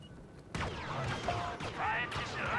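Blaster gunfire in the video game Star Wars Battlefront, a burst of rapid zapping shots and crashing impacts starting after a quiet half second, continuing through battle noise.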